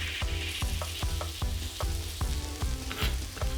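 Ginger and garlic paste sizzles steadily in a hot pan for a vegan eggplant curry, with rhythmic stirring scrapes repeating about every half second over a continuous frying hiss, loud and close.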